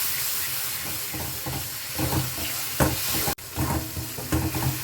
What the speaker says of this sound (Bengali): এর মধ্যে আমি এবার দিয়ে দেবো একটু টমেটো আমি গ্রেড করে রেখেছিলাম